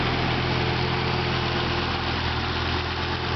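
A Volvo 850 T5R with a freshly installed engine idles steadily at close range, a smooth, even mechanical hum with a low rumble that holds constant throughout, with no voices.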